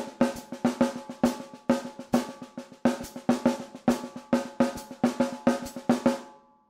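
Jazz drum fill in syncopated, accented triplets: a rapid, steady stream of crisp drum strokes with louder accents popping out at regular intervals, played alone for several seconds.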